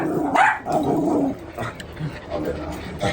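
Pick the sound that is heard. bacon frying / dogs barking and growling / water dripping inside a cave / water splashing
dogs barking and growling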